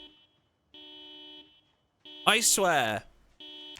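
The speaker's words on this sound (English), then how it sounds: "Even when I don't set off a house alarm, another one goes off." A house alarm in the video game Project Zomboid sounds as steady electronic beeps in repeated on-off bursts, loud and close, with a person's exclamation cutting in midway.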